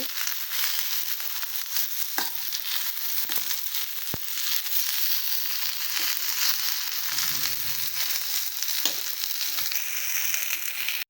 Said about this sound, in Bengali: যে দেখুন পটলগুলো হালকা হালকা ভাজা হয়ে যাচ্ছে।